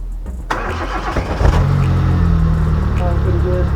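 A Daewoo Matiz engine, pulled as a donor unit during repair work, cranks and catches, then settles into a steady mid-pitched run with a slight rev, close and loud.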